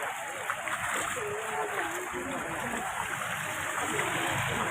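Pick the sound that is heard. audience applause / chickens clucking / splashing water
splashing water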